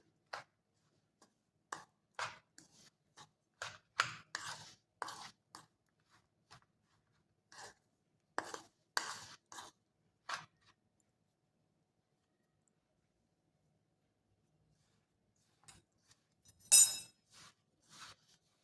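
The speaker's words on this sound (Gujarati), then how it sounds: "મસાલાને આપણે અહીંયા થોડો પહેલાં ચમચીથી મિક્સ કરીએ છીએ" Spoon scraping and clinking through a dry spiced kachori filling in a bowl, a run of short, close, separate taps and scrapes with pauses, ending in a sharper clatter.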